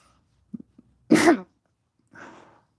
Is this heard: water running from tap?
no